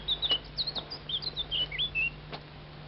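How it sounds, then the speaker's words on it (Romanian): A nightingale sings alone in a quick series of bright, high whistled chirps and trills, clear and fairly close over a faint low hum. "Mai cântă privighetoarea."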